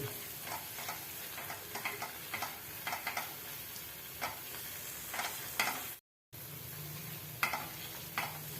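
Masala sautéing in oil over a flame, a soft continuous sizzle with intermittent spatula taps and scrapes, briefly cut to silence before resuming.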